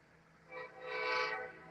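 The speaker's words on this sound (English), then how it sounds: "we got the lights and a toot toot toot" A CSX freight train on the Henderson Sub near Hopkinsville, Kentucky sounds its horn while approaching, a loud sustained blast that swells and holds for over a second above low rumbling, with no talking.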